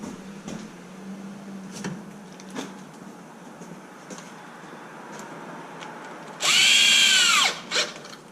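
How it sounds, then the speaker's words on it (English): A power drill whirs loudly for about a second near the end, then gives a brief second burst, following quiet clicks and handling noises, during a rebuild of an XMAXX 8s RC car with new bearings. "I'm gonna have to walk over, get that drill"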